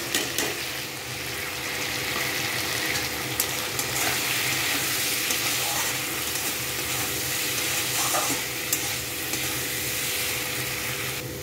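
Spices fried in oil in a pan for a potato curry, a continuous close sizzle with occasional clinks and stirring scrapes, no voices over it.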